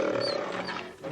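A lion's roar, loud and close, one sustained growling call filling the whole short moment.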